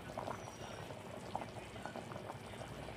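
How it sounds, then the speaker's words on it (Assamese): Curry with jackfruit seeds boils in a pot, giving a steady close bubbling and popping texture throughout, quiet but continuous with no talk over it. "কঁঠালগুটি আৰু জোলখিনি এতিয়া উতলাইছে"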